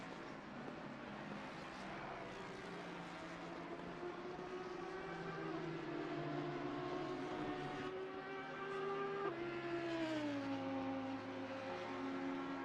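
Racing car engine in a France round of a seniors' racing simulator championship, a loud steady whine that rises through the gears, drops sharply on a downshift near the end, then climbs again, continuous with no talk over it.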